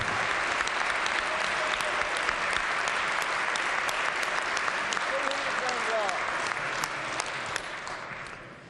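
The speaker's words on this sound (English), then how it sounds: "Please give them a warm round of applause." Union members standing in the West Virginia House chamber receive a warm, steady round of applause from the whole floor, continuous clapping at moderate level that slowly fades toward the end.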